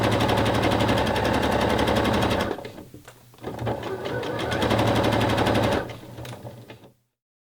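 A sewing machine set to a 2.8 stitch length stitches a curved bra seam in rapid, evenly pulsed bursts, close and loud, pausing briefly midway and stopping cleanly at the end.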